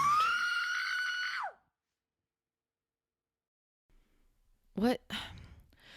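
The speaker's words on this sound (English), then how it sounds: "And then she gasped, eyes fluttering open, and looked wildly around the room. And she screamed." A woman screams in an audio drama, one long, loud, rising cry that breaks off into silence, followed by a short gasp or sharp breath.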